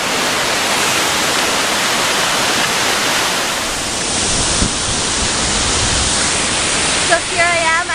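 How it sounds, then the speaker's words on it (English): Kouang Si Falls in Laos roaring at the top of the waterfall, a dense, loud, continuous wash of falling water heard close with no break. "So here I am at the top of the waterfall, as you can see."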